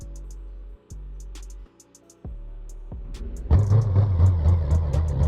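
Muscle truck in BeamNG Drive with a manual gearbox, engine cutting out and restarting in short bursts before rising into a loud, rough revving rumble, close and without talk.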